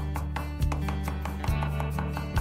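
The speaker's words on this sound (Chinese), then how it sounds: "接下来准备一小块的姜，拍扁剁碎，几颗大蒜也要剁碎" A kitchen knife chops ginger and garlic on a board in a few sharp, irregular strikes over a steady low background hum.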